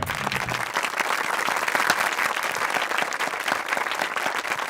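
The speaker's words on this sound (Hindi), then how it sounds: "तालियां।" Crowd applause in a comedy film scene, brisk continuous clapping from many hands, fairly loud and even from start to finish, with a brief voice at the very beginning.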